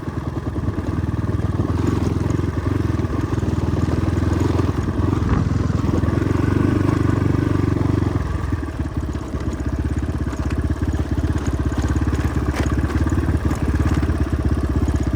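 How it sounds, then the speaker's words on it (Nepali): Motorcycle on an off-road ride from Siklesh toward Pokhara, its engine running steadily and loudly close by throughout, with rough clattering texture and a slight dip in intensity partway through. "के भयो ध्रुव दाइको बाइक फेरि"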